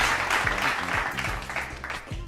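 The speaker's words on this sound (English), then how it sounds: "Y'all hit the clap for the homies." Sound-effect applause plays loudly and steadily on a sports talk show, a dense wash of claps over low music-like tones, with talk faintly underneath.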